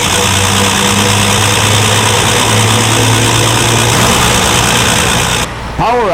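A car engine runs steadily at idle, a loud continuous hum with a constant low drone and mechanical whir that cuts off briefly near the end.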